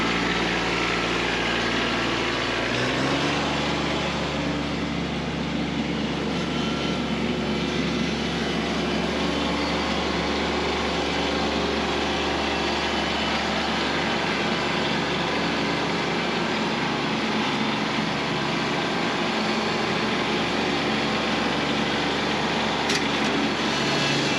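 A Kubota B2601 compact tractor engine drones steadily and loudly while pulling a box blade through wet, rocky clay ground, its low rumble constant with a faint labored edge as it struggles for traction, no voices present.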